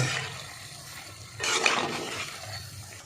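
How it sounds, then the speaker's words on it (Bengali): Oil sizzles steadily around ksheer gokul pitha fritters in a pan, swelling into a louder, brighter hiss midway before settling back to a soft crackle. "এবার ভালো করে ভেজে নেব।"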